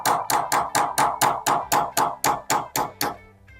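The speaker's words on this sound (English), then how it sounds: "So we're gonna take a punch and a hammer." A hammer strikes a steel punch to drive the factory sight pin out of a Smith & Wesson K or L frame revolver, about twelve sharp metallic taps in a steady, even rhythm, close and alone.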